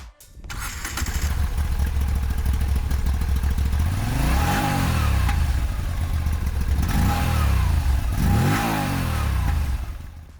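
A loud, close Moto Guzzi V85 TT motorcycle's 856cc engine idles and then revs up and down three times, the pitch rising and falling with each rev.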